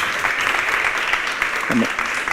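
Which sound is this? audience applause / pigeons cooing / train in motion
audience applause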